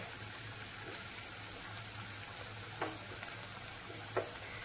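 Onions fry slowly over low heat in a pan with a faint, even sizzle, broken by a few soft clinks from stirring.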